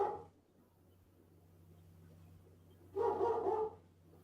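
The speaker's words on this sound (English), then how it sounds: "Oh my gosh, dogs." A dog's barks outside, a short burst at the start and a louder cluster of barks a few seconds later, with quiet low hum between.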